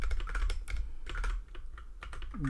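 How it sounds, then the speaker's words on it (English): Code is typed rapidly on a computer keyboard for a game project, a dense run of close clicking keystrokes over a low steady hum, no speech. "I should just copy this, but I'm already typing it out."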